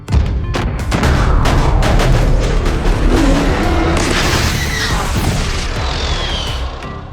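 Carpet bombing by a human fleet at sea, a dense barrage of heavy booms and crashing blasts rolling continuously at high loudness, with sharp impacts layered over a thick low rumble.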